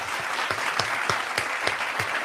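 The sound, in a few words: applause button sound effect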